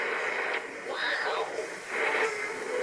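Audio from a Collins 51J-4 receiver as its crystal phasing is adjusted, a hissy band of noise and muffled signal whose tone sweeps and shifts as a notch moves through the passband, close and steady.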